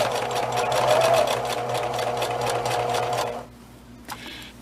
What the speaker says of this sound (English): And then I'll sew all the way around